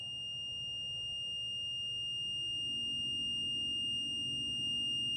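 An Arduino alarm system's buzzer sounds continuously as a steady, thin high-pitched electronic tone, fairly faint and unbroken for the whole stretch, with low room hum beneath.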